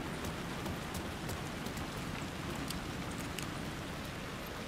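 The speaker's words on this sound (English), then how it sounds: "Oh, look, because it's raining." Steady rainfall in the horror game Alan Wake 2, a dense even hiss of drops with scattered sharper patters on surfaces, continuous and fairly close with no talking.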